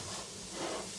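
Frozen vegetables fry and sauté in a hot pan, giving a steady, even broadband sizzle that stays constant without voices.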